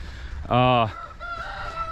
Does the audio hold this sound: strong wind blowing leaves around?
no